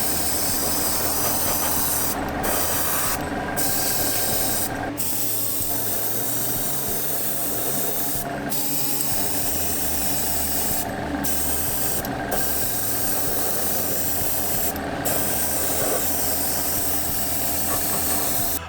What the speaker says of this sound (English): I'm going to turn the fan on and the compressor. It's all very noisy